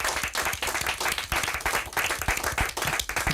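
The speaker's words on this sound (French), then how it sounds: "Eh ben on applaudit l'entrée" Studio audience on a French talk show claps for a dish, a moderate, even patter of many hands with distinct individual claps, fairly faint and without speech.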